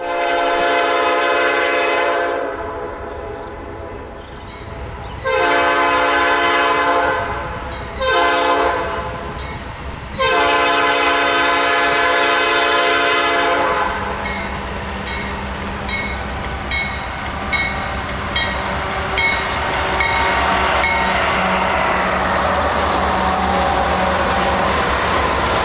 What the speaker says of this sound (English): Around 9:30 a.m., the train was finally underway